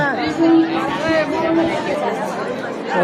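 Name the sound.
crowd chatter near a temple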